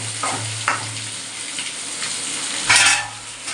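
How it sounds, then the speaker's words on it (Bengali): Eggs and potatoes fry in a pan with a steady broadband sizzle, a few scraping stirs near the start and a louder burst of spattering toward the end, with no voices. "ডিমগুলো মোটামুটি এপিট ওপিট গায়ে একটু লাল রং ধরলেই ডিম ভাজা হয়ে যাবে"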